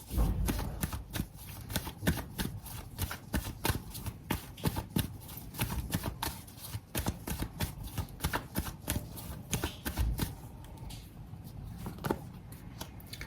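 Tarot cards are shuffled and drawn close to the microphone, a dense run of riffling flicks and slaps that goes on for several seconds before easing into a few softer handling sounds.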